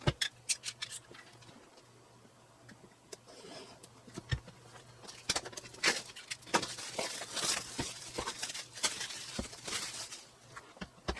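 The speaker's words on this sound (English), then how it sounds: "Now time to pop open the speed editor and have a look." A DaVinci Resolve Speed Editor is unboxed, with scattered crisp clicks, rustles and taps of packaging and cardboard, irregular and close, growing busier toward the end.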